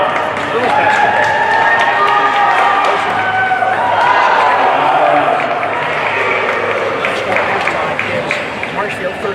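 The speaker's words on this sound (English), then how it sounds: "Here we go, this is the crowd." Crowd noise at a girls high school basketball game in a gym, a steady roar of cheering and shouting voices that stays loud and continuous throughout, with voices mixed in.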